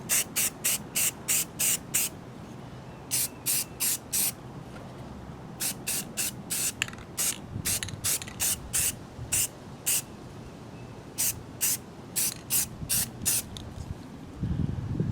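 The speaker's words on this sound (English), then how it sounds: "Using the good old high performance enamel from Rust-Oleum." Rust-Oleum high performance enamel sprayed in black from an aerosol can during patio solar light maintenance, heard as many short, loud hissing bursts in quick succession with brief pauses, close by and with no voices.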